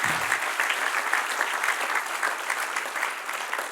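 A church congregation breaks into steady, dense applause during a sermon, the clapping continuous and fairly loud throughout with no speech over it.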